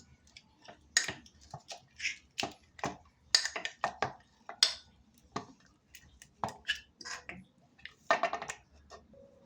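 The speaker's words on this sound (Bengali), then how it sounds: "এবার আমি একটা এরকম ম্যাশারের সাহায্যে এগুলোকে খুব ভালো করে এইভাবে ম্যাশ করে নেবো" Boiled jackfruit seeds mashed with a hand masher in a kitchen, giving a steady run of short, close, sharp clanks and squishy thumps at an uneven rhythm, with no talking.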